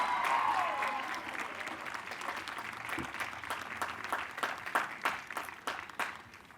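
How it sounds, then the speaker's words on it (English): An audience at a college baccalaureate ceremony applauds in a dense, steady wash of clapping that gradually thins and fades toward the end, heard at a moderate distance. "I think that deserves one more round of applause."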